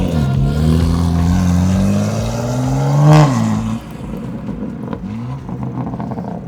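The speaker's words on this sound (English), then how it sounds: "So this is single mid pipe with catless." A loud, raspy 800hp BMW M340i S58 engine with a catless single mid pipe revs up to a peak, then drops off abruptly, leaving a rougher idle with crackles.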